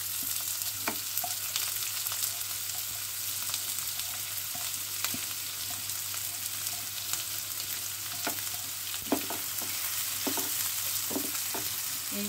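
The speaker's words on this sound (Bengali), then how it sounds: "এইগুলোকে একটুখানি ফ্রাই করে নিয়ে আসছি" Chopped onion and green chilli frying in a pan, a constant close sizzle with scattered scraping taps as it is stirred, no voices.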